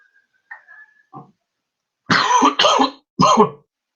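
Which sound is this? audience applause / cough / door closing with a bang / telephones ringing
cough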